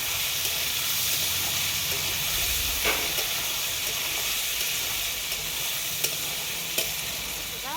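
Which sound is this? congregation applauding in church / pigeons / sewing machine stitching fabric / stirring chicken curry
stirring chicken curry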